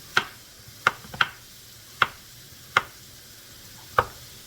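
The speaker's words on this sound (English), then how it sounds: "You're just going to slice them." A kitchen knife slices through washed, unpeeled potatoes on a board. About six crisp, separate cuts land at an uneven pace with quiet gaps between them, close by and with no voices.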